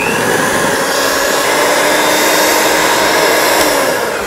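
An electric mixer beats a mixture for Om Ali, the Egyptian bread pudding, with a loud, steady whirring motor whine that is close and continuous for a few seconds.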